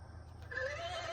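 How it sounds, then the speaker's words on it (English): A single horse whinnies nearby, a wavering high neigh that rises and then trails off over about half a second, with no one speaking. "They had to bring in the horses,"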